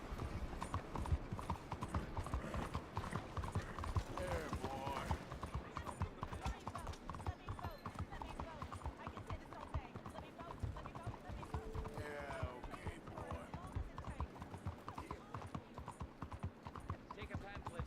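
Steady clip-clop of a horse's hooves riding along in Red Dead Redemption 2, continuous and fairly close, with someone talking over it and background game sounds.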